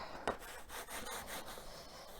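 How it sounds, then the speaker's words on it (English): A paper craft piece is burnished by rubbing, giving a steady, close scraping and rubbing texture of repeated strokes over about two seconds, with no talking. "turn it this way and give a burnish"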